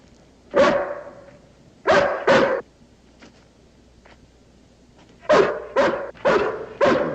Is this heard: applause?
no